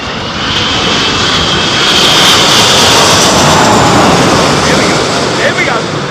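An airliner lands at Heathrow in storm-force wind, its engines roaring loudly and continuously with heavy wind rush, close and powerful throughout.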